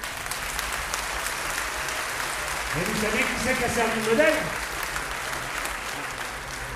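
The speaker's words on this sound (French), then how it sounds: "Et on peut applaudir Catherine" Audience at a sea shanty festival in Paimpol applauds Catherine, steady clapping that swells briefly while someone talks over it.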